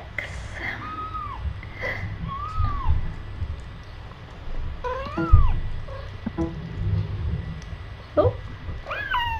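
A tiny kitten gives several short, faint meows and squeaks in a quiet room during eye-drop care, with soft handling sounds between the cries.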